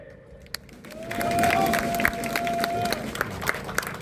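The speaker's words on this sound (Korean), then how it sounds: "여러분 큰 박수로 환영해 주시면 감사하겠습니다" A crowd at an outdoor national rally for the May 16 anniversary claps and cheers, the applause building after a quiet start, with a sustained horn-like tone and scattered sharp claps over it.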